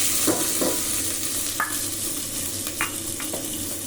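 Cumin, mustard seeds, fenugreek, green chillies, onion, coriander and tomato frying in oil with a little ghee for tomato rice, a loud steady sizzle broken by a few close scraping stirs.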